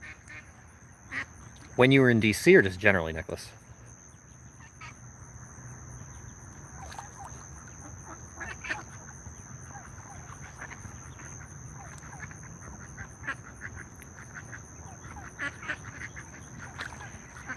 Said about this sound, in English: These other ducks are just scaring off the babies here.